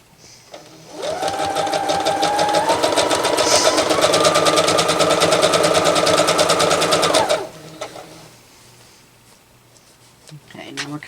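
A sewing machine stitches a seam on a tablet bag, a steady, loud, rapid mechanical chatter running for several seconds before it stops, with a voice heard near the end.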